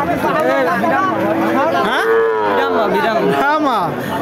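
A Sahiwal heifer calf moos loudly and repeatedly at a busy cattle market, with several drawn-out calls close by over a background of crowd noise and chatter.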